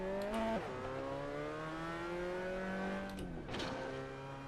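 Cup car engine in Assetto Corsa revving loud with a steady droning pitch, sharp gear-shift drops near the start and again toward the end, each followed by a renewed climb.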